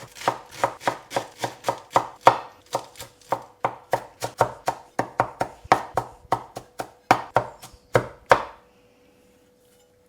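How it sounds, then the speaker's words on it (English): Knife chopping fresh spinach leaves on a board, a fast run of about thirty crisp, close, evenly spaced thuds that stops abruptly near the end, with no voices. "I am going to actually just chop it up first."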